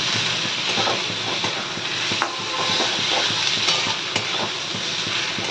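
Partly cooked potatoes sizzle in a frying pan for mutton curry, a steady close hiss broken by occasional scraping and stirring clicks, with no voices.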